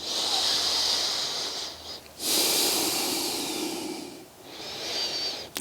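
Steady, airy breathing during a guided yoga side stretch, a long hissing inhale and exhale close to the microphone, briefly dipping and then swelling again, with no talking.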